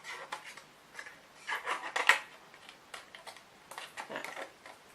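Scissors snip and scrape against a stiff acetate sheet, a series of short crisp cuts and rustles, close up, with no talking.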